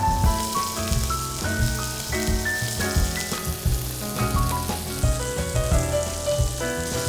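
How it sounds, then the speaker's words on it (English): Seasoned beef burger patties sear in olive oil in a hot pan, a steady close sizzle running beneath prominent background music throughout. "It's important that we season the patties with salt and pepper just before we add them to the hot pan."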